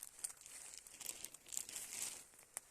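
A plastic bag crinkles and rustles up close while foraging for mushrooms in a forest, in soft irregular bursts of crackling.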